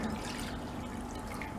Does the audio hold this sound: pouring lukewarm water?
yes